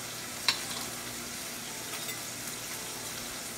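Sugar being stirred into bitter melon and pork frying in a pan, a soft scrape of the utensil near the start over a steady, quiet sizzle that runs throughout.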